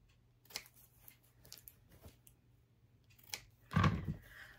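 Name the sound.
scissors trimming fabric corner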